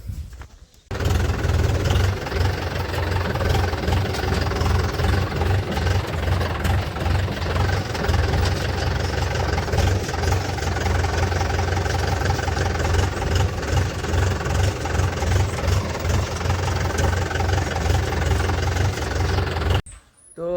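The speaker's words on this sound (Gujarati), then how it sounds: "જરાક આગળ લેવાનું હતું તો હાલો આ ટ્રેક્ટર આગળ લઈ લઈએ." A tractor engine runs steadily and loudly as the tractor pulls forward, a continuous low rumble with a knocking throb that holds for nearly twenty seconds before cutting off.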